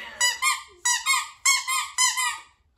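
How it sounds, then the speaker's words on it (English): A squeaky furry ball dog toy gets squeezed four times in a row, each squeak a loud, shrill two-part wheeze close by, with short gaps between squeezes. "Furry balls that squeak."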